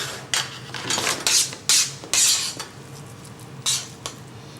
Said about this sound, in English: Use the back of the spoon to spread them nice and thinly.